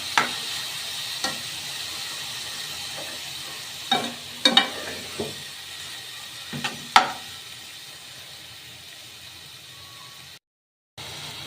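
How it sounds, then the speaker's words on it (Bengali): Chopped potatoes stir-frying in hot oil in a pan, a steady low sizzle broken by several sharp scraping stirs and clanks of a spatula, close and moderately loud, before a brief cut to silence near the end. "এখন এটাকে আমি ভালো করে কষিয়ে নেব।"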